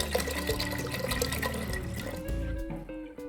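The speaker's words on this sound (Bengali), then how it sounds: "দিয়ে দিচ্ছি পরিমাণ মতো জল," Water pours into a pressure cooker over raw peanuts and lentils set to boil, a short, close gurgling stream with a rising pitch as the pot fills.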